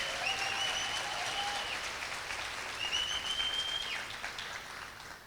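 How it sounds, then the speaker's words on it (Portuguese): Steady applause from a church audience for the apostle Leila, continuous and moderately loud throughout, with a few faint whistle-like tones above it. "Uma salva de palmas para a apóstola Leila."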